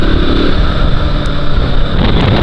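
A KTM RC 200 motorcycle being ridden on a long ride gives a loud, steady engine drone mixed with rushing wind noise, continuous throughout.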